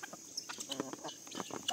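Chickens peck at corn and feed in a bucket, giving quick irregular taps and scratches with soft clucks mixed in, close by over a steady high background hum.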